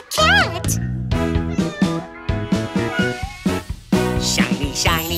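A cartoon cat's meow is sung as part of a cheerful children's farm-animal song, with a bright vocal glide at the start followed by steady sung melody over bouncy backing music.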